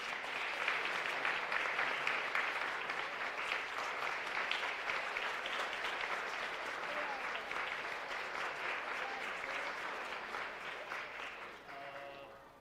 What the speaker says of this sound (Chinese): 那我们拍掌，谢谢。